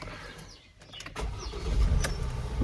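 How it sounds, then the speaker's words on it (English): A Ford Transit Custom van being started with the key, a brief whirring crank followed by the engine catching and settling into a close, steady idle. "if I put my foot on the clutch, turn the key"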